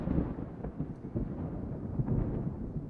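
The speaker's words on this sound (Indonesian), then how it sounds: "itu suara guntur dan kilat" Thunder rumbles low and steady for a few seconds, a deep continuous roll without sharp cracks, moderately loud and heard alone.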